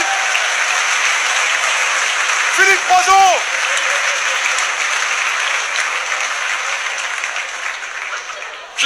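Stand-up comedy audience bursting into loud, sustained applause and clapping that slowly fades, with a voice calling out a name briefly over it.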